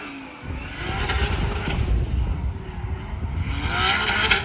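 A BMW E32 drift car with a JZ engine swap, out on track at Cyprus Drift Championship practice, roars steadily at high revs for several seconds, a broad sustained engine drone heard from a moderate distance.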